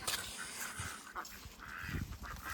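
Ducks honk and quack in a mixed flock, several calls overlapping at moderate distance amid outdoor background noise.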